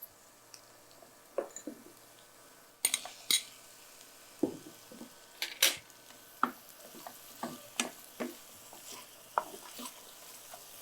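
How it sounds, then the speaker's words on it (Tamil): Onion sautéing in a pan, with soy chunks going into the dish. Soft, faint sizzling runs underneath, broken by scattered spoon scrapes and stirring clicks that come at irregular intervals. "இப்போ இந்த வெங்காயத்தை இதோட வதக்கிடலாம்."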